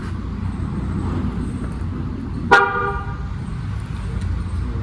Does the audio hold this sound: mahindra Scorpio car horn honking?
yes